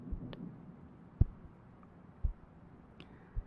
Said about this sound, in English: you begin to hear your heart beating